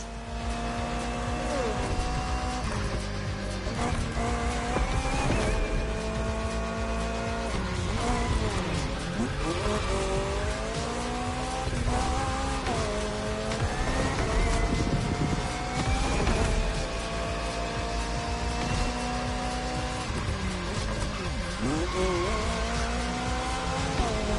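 A Peugeot 3008 KR maxi buggy racing in The Crew Motorfest, its engine droning loud and steady with rising and falling revs, shifting pitch through the run and occasional tire squeal, alone with no talk.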